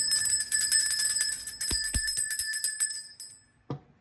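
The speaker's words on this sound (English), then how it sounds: "Where's my bell?" A bell rung indoors, giving several bright metallic rings with tonal partials that keep sounding, then a last short strike after a brief pause; loud and close, with no talking.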